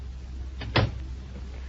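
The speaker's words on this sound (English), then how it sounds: "Shut the door, Jack." A door is shut in an old radio drama sound effect, a brief rattle followed by one solid thud, heard on its own with no talking.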